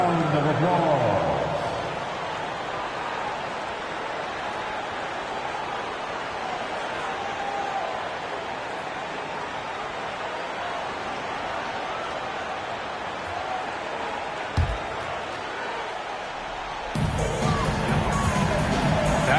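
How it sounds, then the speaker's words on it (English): Broad, steady crowd noise fills an arena during an NBA 2K basketball game as fans applaud the Lakers youth dance team, a constant roar of hubbub and cheering that swells near the end. "Give your Lakers youth dance team a big round of applause."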